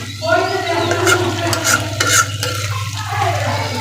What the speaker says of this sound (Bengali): আর একটু ভালোভাবে কষাই নিলাম